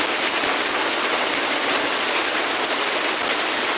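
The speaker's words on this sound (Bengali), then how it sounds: "অনেক সুন্দর বৃষ্টি" Steady, dense hiss of rain falling continuously with no wind, loud and even throughout, with no voices or other sounds breaking through.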